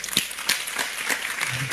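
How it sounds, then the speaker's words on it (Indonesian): Audience at a Muhammadiyah gathering giving a scattered round of applause, with uneven bursts of clapping at moderate level and a faint voice underneath. "Bertahap, ya, tepuk tangan ya."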